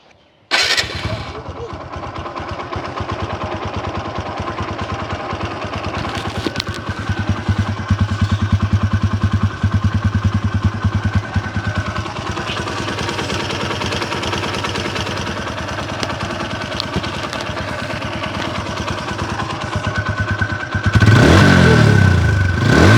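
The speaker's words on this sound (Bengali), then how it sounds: "গাড়ির সাউন্ড আপনারা শুনতে পারলেন, একেবারে নতুনের মতো সাউন্ড আছে।" A TVS Apache RTR 160 motorcycle engine in like-new condition starts up, then idles with a steady throbbing rumble for a long stretch before revving louder near the end.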